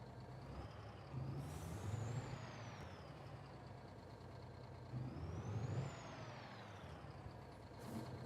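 A Mack truck engine in a video game drones steadily, rising and falling as it revs, with high whining tones sweeping up and down and a few sharp hisses.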